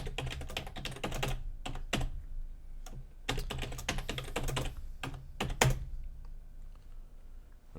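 Close, crisp typing on a computer keyboard comes in uneven bursts of rapid keystrokes, separated by short pauses and a few louder single key taps.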